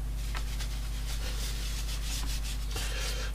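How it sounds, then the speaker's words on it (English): Steady scraping and rubbing of paint on a canvas, a continuous close abrasive rasp with small irregular strokes over a constant low hum, and no voices. "as you can see, I am kind of scraping it this little bit."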